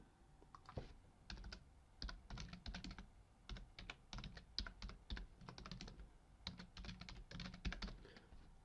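Rapid bursts of keystrokes on a computer keyboard, typed in quick irregular runs with short pauses between words, close and clear with no talking.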